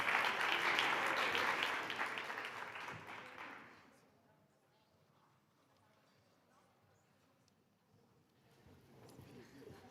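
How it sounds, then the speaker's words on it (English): Conference audience applause at the eTwinning annual conference, a fairly faint crowd of hands clapping for about four seconds before dying away into near quiet, with a little soft stirring near the end. "An applause, yes."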